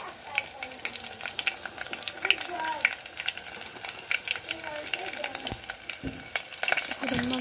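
Garlic sizzling in hot oil for palak dal, a steady crackling fry with light stirring scrapes, under a voice speaking throughout.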